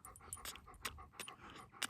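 A dog pants rapidly and steadily close by outdoors, quick breathy puffs in an even rhythm with a few louder bursts, no talking over it.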